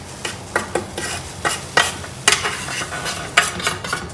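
Turmeric, cumin, coriander and mustard seeds toast in a pan, a spatula scraping and stirring in a string of quick, close strokes over a light sizzle.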